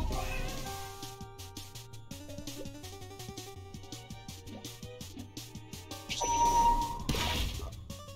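A cat meows in the video game Ikenfell, short cries layered over a steady rhythmic game soundtrack with bouncing bass notes and a brief louder burst near the end.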